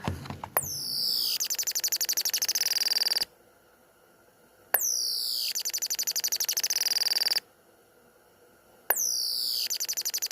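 A restored 1960s–70s electric bird ornament chirps in three rapid, trilling bursts, each a fast run of high tweets separated by short pauses of near silence.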